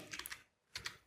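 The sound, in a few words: pressing keys on a computer keyboard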